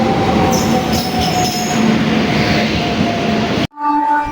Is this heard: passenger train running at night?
yes